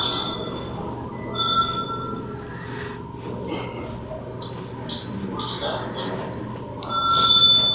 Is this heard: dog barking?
no